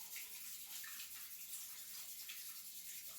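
Hands being washed under a steady stream of running tap water during soap making, a soft continuous hiss and splash, fairly quiet and close, with no voices.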